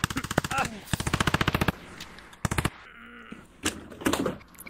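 Video game gunfire rattles out in rapid automatic bursts, loud and close, then breaks into shorter clusters of shots separated by brief quieter gaps.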